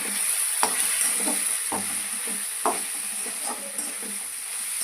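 Bombay duck fish being stirred while frying in a pan, soft sizzling hiss under a handful of scraping stir strokes and light clicks against the pan, close and alone.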